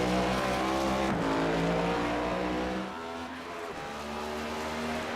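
Race car engines roar loudly and steadily on the Bristol oval during a racing game qualifying session, with layered engine notes shifting pitch as cars pass.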